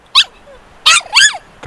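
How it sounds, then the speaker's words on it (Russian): A dog barks at close range in three sharp yelping barks, one alone and then a quick pair, with quiet gaps between. "Хорош гавкать, блин."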